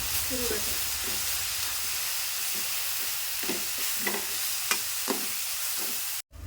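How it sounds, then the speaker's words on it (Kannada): Continuous sizzling of chili powder and masala spices frying in a kadai for kadai paneer, with soft stirring scrapes and taps at intervals, no speech, ending in a short cut. "ಈಗ ನೋಡ್ರಿ ಇದೆಲ್ಲ ಮಸಾಲೆ ಫ್ರೈ ಆಗಿದ್ರೆ"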